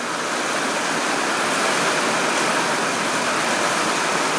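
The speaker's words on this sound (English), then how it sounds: "There's water coming through on the neighbours there where that tree is." Storm runoff water rushing steadily past a large tree on a street corner, a loud, continuous broadband roar like a stream or small waterfall that stays even from start to finish, with no voices.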